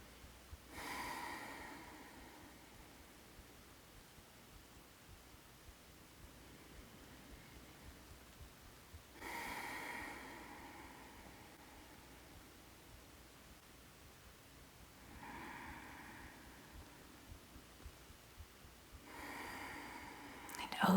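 Slow, deep breaths during a yoga class: four long airy inhales or exhales spaced several seconds apart, soft and close, with quiet stillness between them.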